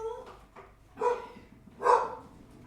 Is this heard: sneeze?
no